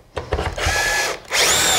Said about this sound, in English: keep on drilling